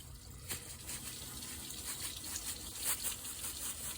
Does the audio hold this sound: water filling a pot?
yes